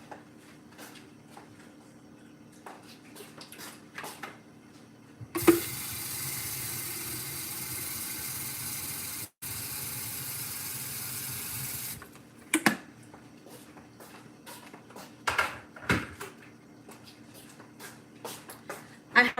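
A kitchen tap runs to fill a pot with water for boiling, a steady rushing stream of about seven seconds with a brief break. Light clatter and handling noises come before and after.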